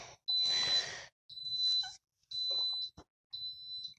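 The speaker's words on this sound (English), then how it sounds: "after the 10 beeps, as the Instant Pot users already know here, after your timer stops" An Instant Pot timer sounds four long, high electronic beeps separated by short silences, clear and close, with faint room noise beneath and no talking.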